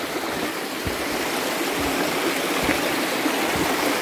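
Waterfall stream at Sai Lot Tuang rushing in a steady, loud broadband wash of flowing water, continuous throughout with no voices.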